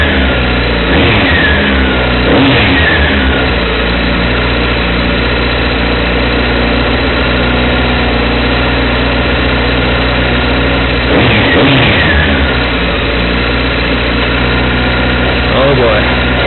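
Motorcycle engine heard from on the bike, a steady loud idle with a couple of revving surges near the start and again midway, a voice talking faintly underneath.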